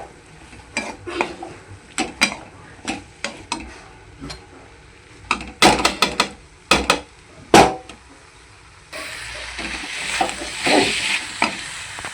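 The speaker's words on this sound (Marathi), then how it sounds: "शेंगा आणल्या होत्या त्या तव्यावरती भाजायला टाकलेल्या आहेत" Repeated scraping and tapping of a utensil on a hot griddle while green bean pods sizzle and roast, louder sizzling toward the end.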